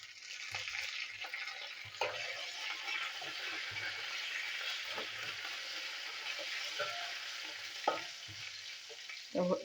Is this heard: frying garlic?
yes